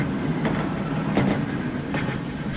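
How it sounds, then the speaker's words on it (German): A tram in the video game Transport Fever rolls along with a steady rumbling drone and faint rhythmic clacks of wheels on rails, close and continuous with no talk. "der Sound von dieser Straßenbahn, das ist natürlich schon auch sehr nett"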